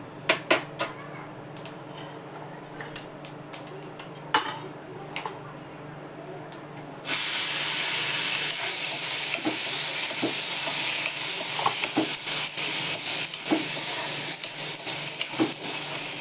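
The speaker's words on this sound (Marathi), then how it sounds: "छान जरा असं परतून घ्यायचं" Boiled, salted corn sautés with cumin in a pan over low gas: soft stirring clinks at first, then a steady, loud sizzling hiss takes over for the second half.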